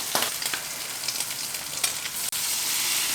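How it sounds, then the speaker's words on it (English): Tuna patties fry in a hot skillet with a steady, close sizzle and crackle, broken by small pops as the pieces are dropped into the pan, with no talking. "I'm going to divide it into 4 patties and just plop them down in the skillet."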